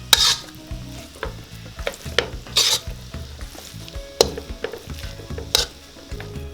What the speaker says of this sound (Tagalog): Tapos haluin nyo lang ng haluin.